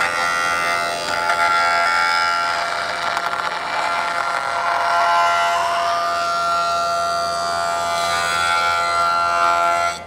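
A table saw or similar spinning blade cuts a wooden handle blank flat, the workpiece pushed along the fence in a steady, loud whine that holds for the full stretch with no talk.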